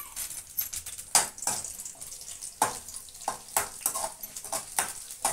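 Cumin, coriander and mustard seeds frying in a couple of spoons of oil, giving a soft, intermittent crackling sizzle with small pops and occasional stirring clinks, fairly quiet throughout.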